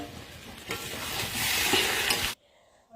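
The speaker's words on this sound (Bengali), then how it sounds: "চেড়ে আরো পনেরো থেকে কুড়ি মিনিট সময় নিয়ে কষিয়ে নেব" Mutton curry with potatoes stirred and fried in a pot, a loud continuous sizzle with scraping stir strokes that cuts off abruptly, leaving near quiet.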